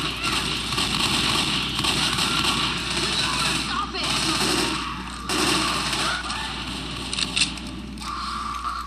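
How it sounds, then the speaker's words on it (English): Repeated pipe bomb explosions in Left 4 Dead, a dense, continuous crackle of bursts and pops running for several seconds with a few sharper cracks near the end, loud and close. "He throws the pipe bombs at the worst possible times."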